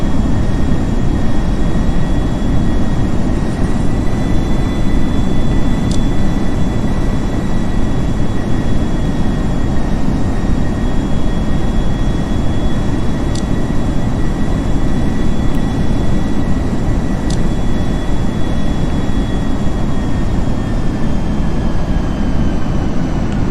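Steady broadband engine roar of a Lufthansa airliner on final approach to land in a flight simulator, continuous and loud, with faint tonal whines and a few brief beeps.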